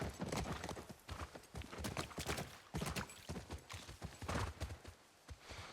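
Rapid clip-clop of horse hooves on hard ground in The Last of Us Part 1, a steady close trotting rhythm with a few irregular heavier thuds, no talking.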